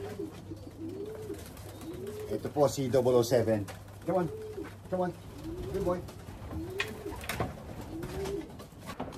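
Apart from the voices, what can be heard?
pigeons cooing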